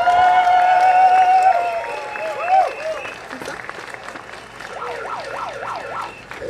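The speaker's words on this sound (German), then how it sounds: "Aber trotz des warmen Applaus" Welcoming applause for guests at a panel talk on coal phase-out fades out into murmuring room noise, with a wavering siren-like tone running through the background.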